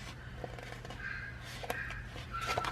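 A pet bird lets out a few short, harsh squawks and chirps over a steady low background hum, fairly close and moderately loud.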